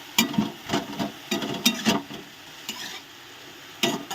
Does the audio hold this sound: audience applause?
no